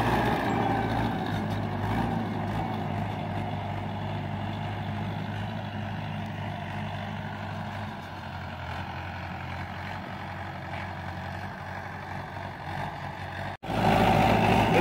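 A Mahindra 585 DI Bhoomiputra tractor engine runs steadily and loud at close range in a field being levelled with a 9-tyne cultivator fully lowered, a continuous low drone with a brief dropout near the end.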